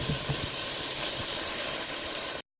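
Beef and onions brown in a pan on high heat for a beef stew, giving a loud, steady, close hiss of searing that runs without a break and then stops abruptly.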